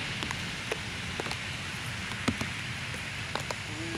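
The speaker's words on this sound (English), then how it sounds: "Now that it's raining, now that I'm out in the rain, it's not too bad" Light rain falls outdoors near a harbor, a soft steady hiss with scattered faint drip taps, quiet and continuous with no talking.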